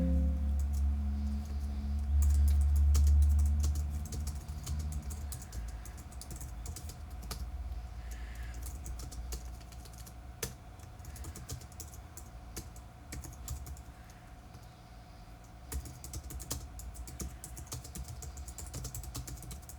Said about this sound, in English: let's do some test typing.